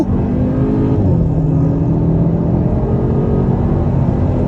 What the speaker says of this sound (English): stepping out here on the gas